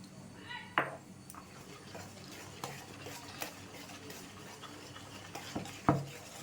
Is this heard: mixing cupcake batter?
yes